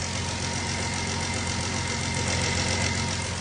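A Dodge car engine runs at a steady idle with a leaking oil hose, a close, continuous mechanical hum with a faint knocking texture.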